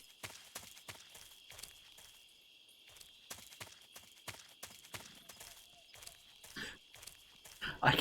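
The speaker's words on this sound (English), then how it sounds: "You can hear the horse." Horse hooves clip-clop in the Metal Gear video game, a run of evenly spaced, moderately loud footfalls over a steady high-pitched ambient drone, with a brief louder burst at the very end.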